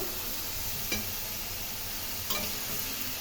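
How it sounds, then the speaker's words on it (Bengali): Potato, eggplant, carrot, tomato and cauliflower fry in hot oil with a steady sizzle, broken by a few scraping stirs of a spatula close at hand. "ফুলকপি ছোটো ছোটো করে কেটে দিয়ে ভাজা ভাজা করে নিচ্ছি"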